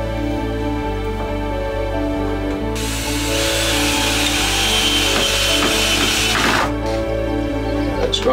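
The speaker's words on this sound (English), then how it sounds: "Great, that's my wood drill bit." A power drill fitted with a wood drill bit bores into timber during a cottage renovation, a steady motor whine underneath and a louder, rougher burst of cutting in the middle before it eases off.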